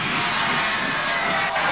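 Rugby league crowd at a 1982 Souths versus Wests match, a loud sustained roar of many voices filling the stadium, continuous and dense throughout.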